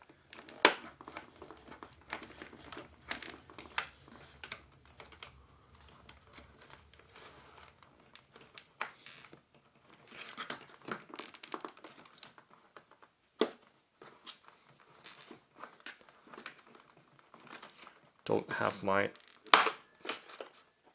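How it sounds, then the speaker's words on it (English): Packaging straps are cut from the underside of a boxed remote-controlled desert buggy, with crinkling, snipping and plastic tearing in irregular bursts while a person talks intermittently. "cutting the straps off. Let's do that by cutting from the underside"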